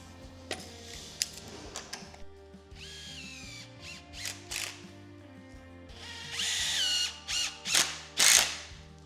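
A power drill whirs in several short bursts with rising pitch as screws bite into a wooden door frame for a log cabin, separated by quiet pauses, close and fairly loud.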